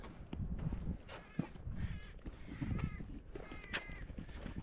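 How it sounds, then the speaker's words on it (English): Crows caw several times at a distance, short harsh calls scattered among outdoor rustle and wind, fairly faint overall. "Oh, the seagull's gone after the crow."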